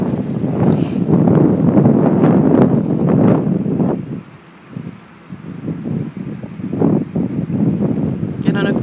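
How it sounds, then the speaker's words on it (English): Wind blowing outdoors on a warm summer day across bare, tree-cleared ground in Goderich after a tornado, a steady loud rushing gust buffeting the microphone, easing briefly midway before picking up again. "A little windy, but warm."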